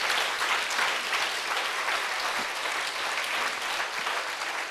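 Church congregation applauding in unison, a steady, dense wash of many hands clapping that holds at an even level from start to finish, with no talk over it.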